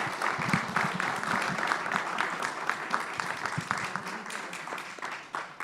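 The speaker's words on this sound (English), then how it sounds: "let me ask you to give one more big round of applause to the panelists and the leaders here" An international symposium audience gives a big round of applause to the panelists and leaders, a dense clatter of many hands that stays strong before tapering slightly at the close.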